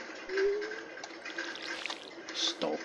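A watering can in Stardew Valley splashes and trickles water onto crops in a few short bursts, with a voice talking faintly at times.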